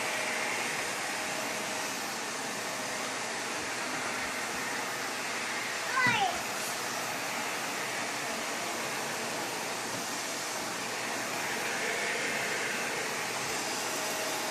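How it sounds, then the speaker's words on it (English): A vacuum cleaner runs steadily throughout, a constant broadband whir at moderate level, with a brief clatter midway as people talk quietly over it. "You're vacuuming, yeah."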